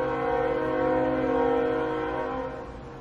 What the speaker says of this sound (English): I swear this train is always coming when I'm trying to hear or do something important that requires audio